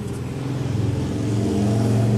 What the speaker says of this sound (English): as a motorcycle goes by